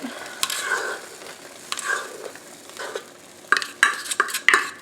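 Chaffle batter, a quarter cup poured into a hot waffle maker, hisses and sizzles with scattered clicks and clatter, quiet at first and then louder bursts near the end, close by.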